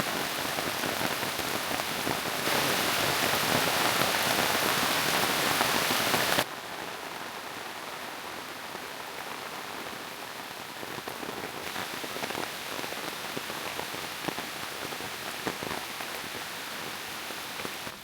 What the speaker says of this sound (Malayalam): റിസർവോറിൻ്റെ സൈഡിൽ കൂടെ നടന്നുകൊണ്ടിരിക്കുമ്പോഴാണ് പെട്ടെന്നൊരു മഴയും വന്നത്.